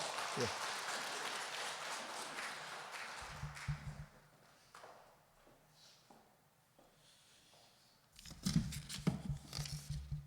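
Applause in a church hall at an anniversary service as a pastor is welcomed, a short burst of clapping near the start giving way to quiet, then more clapping and shuffling toward the end.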